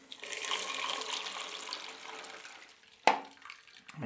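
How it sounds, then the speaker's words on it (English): Running water pours in a steady rush for the final rinse while developing medium-format film, easing off before a sharp knock or clatter near the end, close and free of talk. "Now that the fix is done, I move on to the final rinse."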